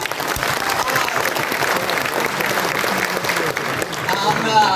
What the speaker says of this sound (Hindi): तो आप सभी के लिए भी एक जोरदार तालियां।